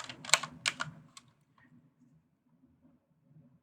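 A quick burst of typing on a computer keyboard while working in DaVinci Resolve Fusion, a few close crisp clicks at the start, then fading to faint low rumbling room noise.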